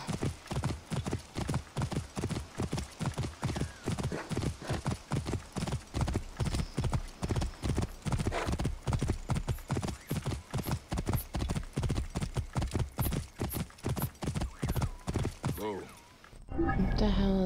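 Steady, rhythmic hoofbeats of a horse in Assassin's Creed Origins clip-clop continuously at close range, with a brief whinny-like sound near the end.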